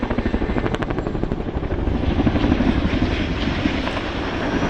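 An RAF 27 Squadron Chinook twin-rotor helicopter at an airshow gives off a loud, continuous rhythmic blattering thump from its rotor blades, heard close and steady with no voices.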